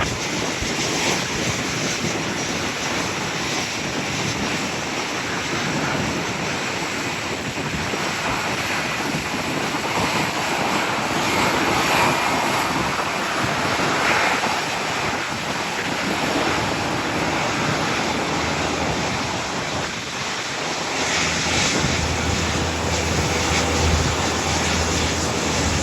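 An Emirates Airbus A380 takes off from runway 23 at Toronto Pearson in gusty wind. A broad, steady roar fills the whole stretch, buffeted by wind across the microphone, with no voices.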